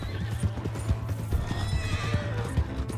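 A horse in the Red Dead Redemption 2 video game whinnies loudly while its hooves clip-clop in a steady, close rhythm, with no talk over it.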